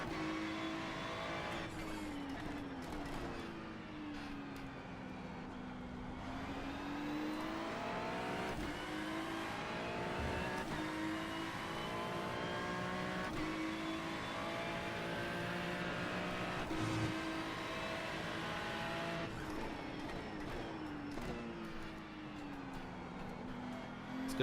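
GT3 race cars scream around Daytona in a racing video game as engines rev, shift up and down and slipstream past one another in a continuous close drone.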